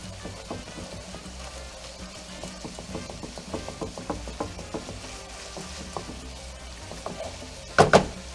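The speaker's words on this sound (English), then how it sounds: "you're browning ground beef" Ground beef browns and is broken up in a pan: a steady, close crackling sizzle with scattered light taps of a utensil, ending in a louder clatter against the pan.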